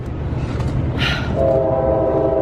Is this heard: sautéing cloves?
no